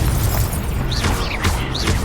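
Incendio fire spell cast in Hogwarts Legacy video game, a dense roaring whoosh of flame with bright crackling bursts and swirling magical tones layered over loud game sound, without any talk.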